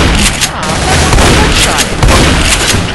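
Gunfire while killing a Boomer in the video game Left 4 Dead, dense loud overlapping shots and blasts in rapid irregular succession, with game chatter mixed in.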